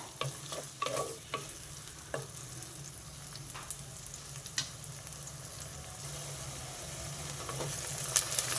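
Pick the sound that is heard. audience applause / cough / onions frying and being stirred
onions frying and being stirred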